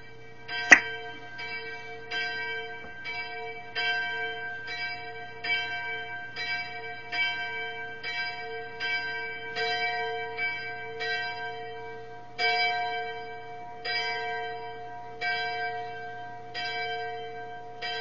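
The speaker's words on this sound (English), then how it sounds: "by just being still and listening to the bell" The church bell of the abbey on Iona tolls slowly and steadily, about a dozen evenly spaced strokes, each ringing out and fading over a faint low hum, after one sharp click at the start.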